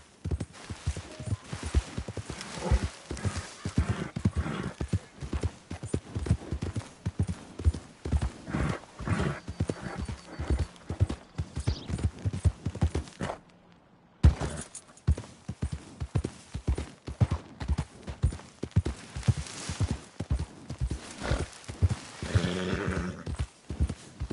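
Horse hooves in Red Dead Redemption 2 beat out a fast, rhythmic galloping clip-clop across open ground, loud and close, with a short break midway before the pounding resumes and a neigh or snort mixed in.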